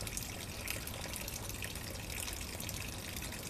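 Water pours steadily from a tap in a washing setting, a continuous close hiss and splash with no talking over it.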